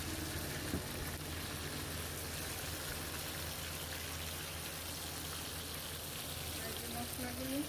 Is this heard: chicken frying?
yes